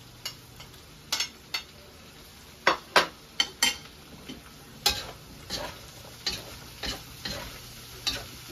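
Potatoes frying in a pan for giniling, a soft steady sizzle broken by a series of sharp scraping and stirring clicks from a utensil against the pan, close and fairly quiet, with no talking.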